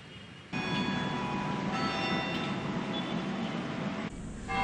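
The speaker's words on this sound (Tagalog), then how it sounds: "Sa batingaw ng kampana ng Manila Cathedral" The bell of Manila Cathedral tolls with sustained, resonant tones that swell and linger, heard clearly and loudly over a steady background hum.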